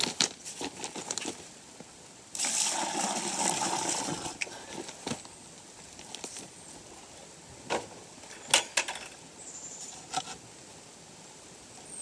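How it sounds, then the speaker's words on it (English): Rainwater poured into a hole in the ground splashes and patters irregularly for several seconds, with a broad pouring rush early on, then scattered drips and trickles fading toward the end. "I'll pour some of that down in the hole first."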